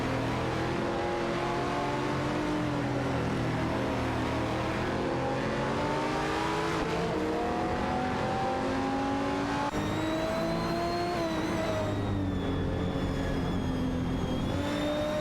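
Race car engines in a racing video game, several cars revving and whining with rising and falling pitch as they accelerate and pass, a continuous layered roar.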